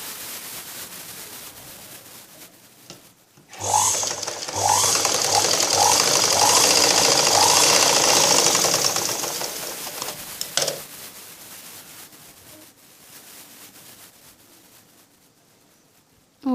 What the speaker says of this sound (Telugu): ఇప్పుడు మెడభాగం కోసం మనం లైనింగ్ని ఒక సైడ్ కుట్టుకోవాలి.